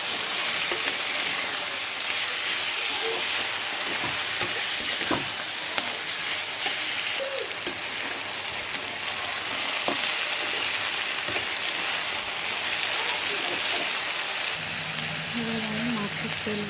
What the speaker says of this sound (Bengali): একটু আমি আলু আর বেগুন দিয়ে একটু ভেজে নেব।